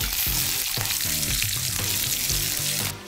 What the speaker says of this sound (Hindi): तो यहाँ पे मैं करी पत्ता ऐड कर रहा हूँ, इनको भी अच्छी तरह से फ्राई कर लेंगे।